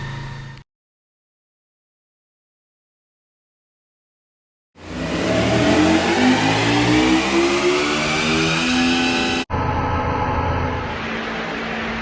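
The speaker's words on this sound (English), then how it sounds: "A dirt bike running 300 k's an hour, that's nuts." A 2018 KTM 1290 Super Adventure motorcycle engine, speed limiter removed, revs hard, climbing in pitch for several seconds after a brief burst and a long silence, then drops to a loud steady run, close and with no talk.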